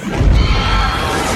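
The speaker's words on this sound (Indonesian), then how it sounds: "namun ledakan besar terjadi" A loud, rumbling roar of a large explosion in a film scene, with dense low-end crackle and debris noise, sustained throughout.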